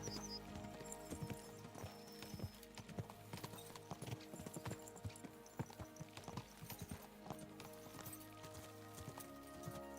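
Horses gallop in the medieval game Kingdom Come: Deliverance II, with a steady run of hoofbeat clip-clops and an occasional neigh over a soft game music bed. The sound runs throughout at a moderate, even level.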